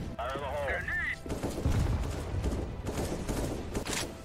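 Rapid gunfire bursts ring out in a CS:GO match, sharp repeated shots layered over busy game noise, with a brief voice near the start.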